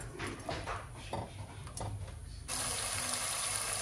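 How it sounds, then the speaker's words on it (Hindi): Chicken frying in hot mustard oil for a tomato chicken dish: after some quieter clatter, a loud, steady sizzling hiss starts abruptly halfway through and holds to the end. "यहाँ पे देखिए हमारा जो है चिकन फ्राई होना शुरू हो गया है।"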